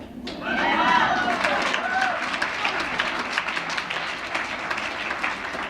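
Audience at a women's empowerment gathering breaking into applause with some cheering, swelling quickly and holding steady as a dense wash of clapping with voices mixed in.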